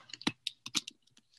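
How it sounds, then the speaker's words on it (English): A handful of quick keystrokes on a computer keyboard while a name is typed, soft close clicks in an uneven burst lasting just over a second. "I'm going to type in my name"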